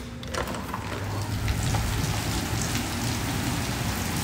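Heavy rain pours outside during a storm, a dense, steady hiss of drops on surfaces that holds at a constant level throughout, with no talking.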